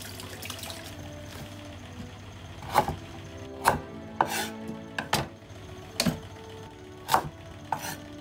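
A knife chops burdock root on a cutting board while preparing pork miso soup: about seven sharp, close chops at irregular intervals, with no talking.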